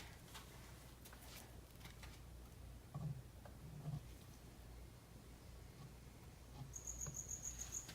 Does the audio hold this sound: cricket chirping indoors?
yes